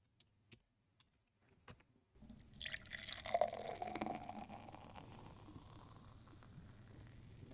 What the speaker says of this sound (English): Something a little bit more than just the pouring sound